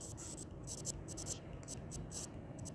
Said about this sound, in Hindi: यहाँ नोट बना के लिख लेंगे